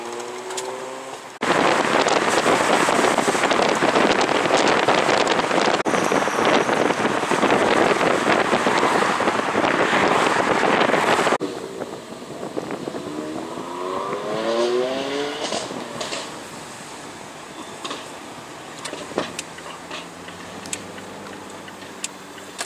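A car lapping the Nürburgring Nordschleife, a loud sustained engine roar with wind rush for about ten seconds, then dropping to a quieter, lighter engine note with shifting revs and gear changes.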